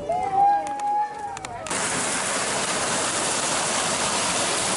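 Water running from a tap at an amusement park, a steady loud hiss of flowing water that starts abruptly and continues unbroken, following brief talk.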